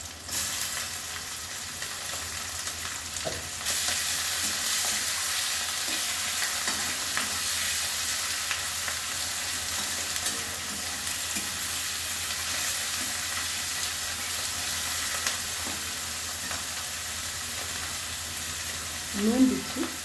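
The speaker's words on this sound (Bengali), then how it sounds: "চিংড়ি মাছগুলো দিয়ে দিচ্ছি, একসঙ্গে ভাজা হবে।" Prawns frying in a pan with dried chilli, cumin and onion give a continuous, even sizzle, close and fairly loud, with faint stirring scrapes now and then and no voices.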